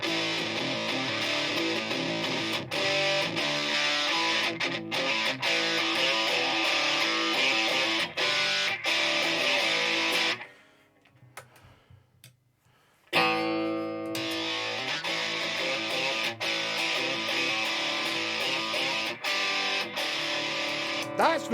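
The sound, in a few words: guitar through a RAT distortion pedal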